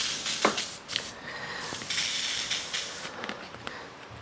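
An airbrush sprays white paint in a steady, close hiss, with brief puffs and pauses as the trigger is worked.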